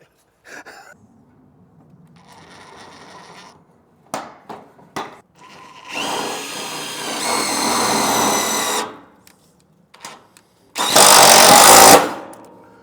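A power drill backs screws out of a lean-to under construction, giving short bursts and then two long whining runs, loud and close, with a few knocks and clatters between them.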